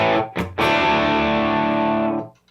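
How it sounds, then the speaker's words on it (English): An electric guitar through an amp set to very low gain plays a short chord, then a second chord that rings out loud and sustained before it stops cleanly. "let me just show you how it sounds with a low gain, very low gain, and then some pedals"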